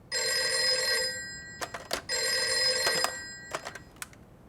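A telephone rings in two long bursts of electronic trilling, each followed by a few sharp clicks and knocks, with quiet background between.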